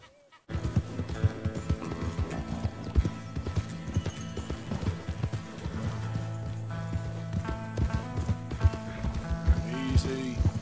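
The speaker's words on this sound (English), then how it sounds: "Easy. Good Mustang. Come on. Move it up. Come on, horses." A Mustang's hooves clip-clop at a steady trot in the video game Red Dead Redemption 2, close and rhythmic for the whole stretch, with a voice coaxing the horses over the hoofbeats.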